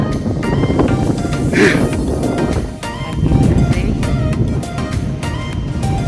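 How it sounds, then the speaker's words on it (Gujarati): Cool wind blowing beside Bor lake, a steady low rumble buffeting the microphone for the whole stretch, with faint voices and brief sounds in the background. "મસ્ત ટાઢો પવન આવે છે."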